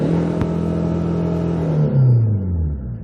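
A 2004 Hyundai Santa Fe 2WD diesel with manual transmission revs up steadily, its engine note rising smoothly and then sweeping down near the end, loud and close with no talking.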